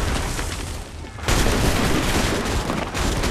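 Musket gunshots in the video game Assassin's Creed 3: a loud blast lands about a third of the way in and gives way to a dense, sustained rumble of gunfire and battle noise that lasts to the end.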